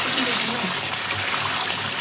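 Water poured into a pot of chicken bhuna curry, a continuous trickling, splashing pour heard close and steady for a couple of seconds with faint talking in the background.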